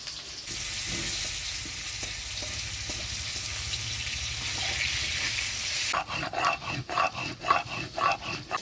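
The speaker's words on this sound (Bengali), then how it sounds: "আজকে মাছ থেকে অনেক তেল ছিটছে" Hot oil spatters and sizzles loudly while fish and potatoes fry, a dense continuous crackle that gives way to sharper, irregular bursts of stirring and popping near the end, with no talking.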